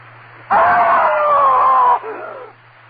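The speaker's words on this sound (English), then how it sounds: "Yes, I screamed. I screamed so loudly there was blood in my throat." A woman's loud, sustained scream in a 1938 horror radio drama, one long piercing cry lasting about a second and a half before breaking off into a fainter trailing sob.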